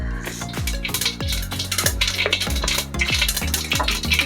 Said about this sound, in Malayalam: അതിലേക്ക് നമുക്ക് 1/2 ടീസ്പൂൺ കടുകും കൂടെ ചേർത്ത് കൊടുക്കാം.